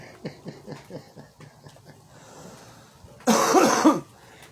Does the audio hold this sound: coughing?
yes